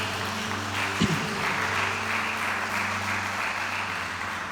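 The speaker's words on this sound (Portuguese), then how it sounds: "Quem pode dar uma salva de palmas para Jesus?" A church congregation claps in sustained applause, a dense steady patter of many hands filling the room throughout with a faint background hum and no speech.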